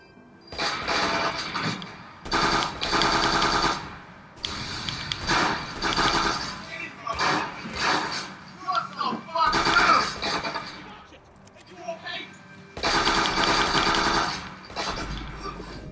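Watch Dogs 2 gunfire comes in loud bursts of rapid automatic shots separated by short gaps, with crashes and shouting voices mixed in.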